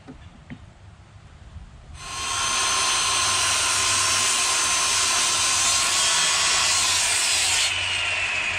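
A power saw cuts through a piece of wood for a greenhouse deck, starting after a quiet couple of seconds and then running as a loud, steady, high whine for about six seconds before easing slightly near the end.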